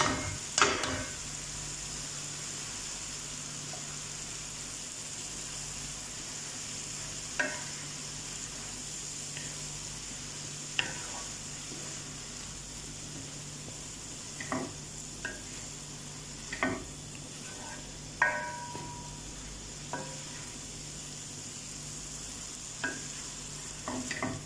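Boiled noodles with vegetables tossed in a hot wok over a continuous low sizzle, with occasional sharp spatula clicks and scrapes against the pan spaced every few seconds.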